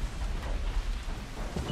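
Rain and thunder in the zombie survival game Dying Light at night, a steady hiss of rainfall over a deep low rumble of thunder rolling continuously throughout.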